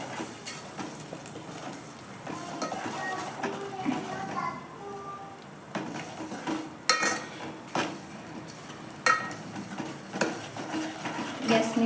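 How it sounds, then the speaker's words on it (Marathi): A spoon stirs tomato puree into misal masala in a pan for Kolhapuri misal, giving intermittent clinks and scrapes against the metal over a soft, low background. "ह्या प्युरीला चांगलं असं मिसळून घेऊया।"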